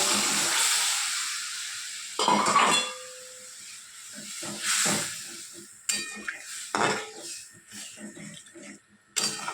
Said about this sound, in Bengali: একবারে হালকা পাতলা ঘুগনি এটা ফুটুক